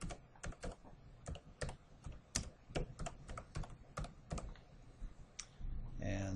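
Computer keyboard typed in a quick uneven run of crisp close clicks and taps entering a search, with a short soft voice at the very end.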